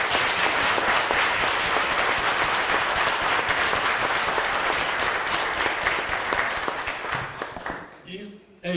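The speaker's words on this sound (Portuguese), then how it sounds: "Eu quero pedir uma salva de palmas para o Vladimir." A Portuguese-speaking audience at a debate event applauds a speaker with steady, loud, dense clapping lasting about seven seconds, fading out at the end as a voice starts.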